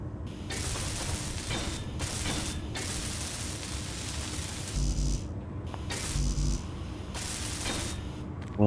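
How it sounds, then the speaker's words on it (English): Welding tool in the video game Space Engineers gives a loud, continuous mechanical hissing and ratcheting buzz in repeated bursts with brief gaps and low thumps, with no talking. "Weld that up."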